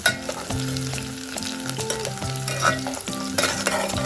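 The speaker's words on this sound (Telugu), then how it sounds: "ముందుగా ఉల్లిపాయని ఇలా కొంచెం గోల్డ్ కలర్ వచ్చే వరకు వేయించుకోండి" Onions fry in a pan, a continuous sizzle with light stirring that sits under background music, with no voices.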